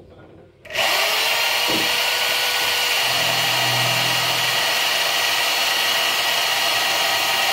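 A power drill bores a hood pin hole through the hood of a 1988 Dodge Dakota Sport, starting with the smallest bit, as a loud, steady whine that runs continuously and close after a brief quiet start.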